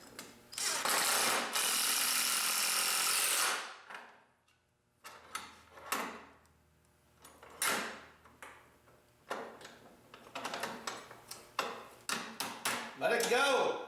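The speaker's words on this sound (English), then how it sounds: "Taking my drill here." A cordless drill whirs in several bursts, one long run and then a string of short spurts, with faint clinks and handling noise between.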